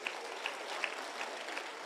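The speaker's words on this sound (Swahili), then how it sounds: "Mpigieni makofi." A crowd at a public security forum in Migori Town, Kenya, claps steadily and faintly for about two seconds, a soft continuous patter with a few sharper individual claps standing out.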